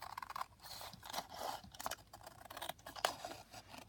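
Several crisp scissor snips cutting through paper for a homemade book cover, irregular and close, with short pauses between cuts and no talking.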